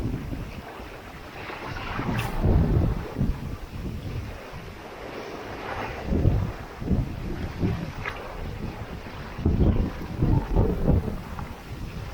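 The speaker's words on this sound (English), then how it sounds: "the wind is quite challenging right now" A sailboat heads out in strong Meltemi wind between Naxos and Amorgos, with loud gusty wind buffeting the microphone and water rushing past the hull in repeated surges.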